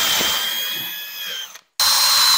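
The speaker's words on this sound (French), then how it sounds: "Voilà, dans l'angle et tu viens visser" A power screwdriver whirs steadily up close as it drives a screw through a metal rail into a plasterboard ceiling, stops abruptly, and after a brief pause starts whining again.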